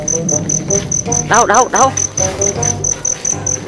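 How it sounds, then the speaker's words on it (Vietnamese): Crickets chirp steadily in a home garden, a continuous high trill running throughout with a louder cluster of close chirps in the middle, while children talk and exclaim over it. "Trời ơi, quá trời dế luôn."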